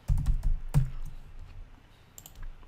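Keys clatter on a computer keyboard in a quick burst of close taps while text is entered in AutoCAD, followed by a few softer scattered clicks.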